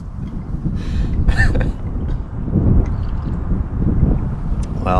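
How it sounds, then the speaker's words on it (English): Wind gusts across a microphone at a lakeside campsite in Algonquin, a steady low rumble and buffeting with a few faint clatters and brief scraping sounds mixed in. "Well, there's the wind again."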